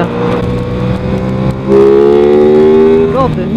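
Engine of a Ducati Supersport S or Aprilia RS 660 sport motorcycle on a winding road, revving steadily and rising in pitch as the rider accelerates through the gears, loud and close with a brief blip near the end.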